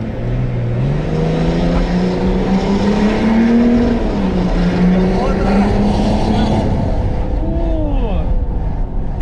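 A BMW X6 35d with a stage 1 downpipe accelerates hard, its loud diesel engine note rising steadily in pitch under load, close and sustained throughout, then easing near the end.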